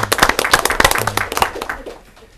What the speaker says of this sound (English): let's give old Mike and all those staff members a round of applause